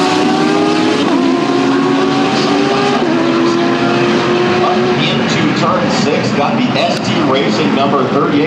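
The number 38 Conquest Racing Aston Martin race car fires up and runs with a loud, continuous, rasping engine drone close by, its pitch shifting slightly. Trackside voices sound over it.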